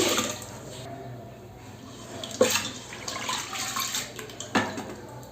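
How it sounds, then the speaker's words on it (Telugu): A glass of toor dal lentils is washed in water, with sloshing and swishing, a few sharper splashes and some clinks against the vessel over a running-water hiss. "ఇప్పుడు మనం పప్పు వాష్ చేసుకుందాం వన్ గ్లాస్ కందిపప్పు వేసుకొని ఒక టూ టైమ్స్ కడుక్కోవాలి"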